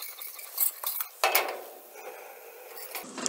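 A metal spoon scrapes and clinks against a pan while onion tomato gravy is stirred, giving several close, irregular knocks and scrapes with soft sizzling in between.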